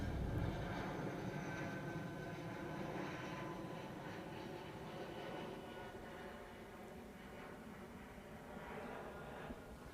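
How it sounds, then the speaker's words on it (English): An airliner taxiing at Manchester Airport gives off a steady, moderately distant engine rumble and whine that holds fairly constant throughout. "There's the King, taxiing back to stand 12."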